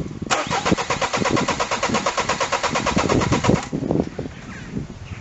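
A Citroen Synergy with an XUD diesel engine cranks hard without catching: a rapid, even starter-motor chug lasting about three seconds, loud and close, then cutting off into quiet mechanical noise.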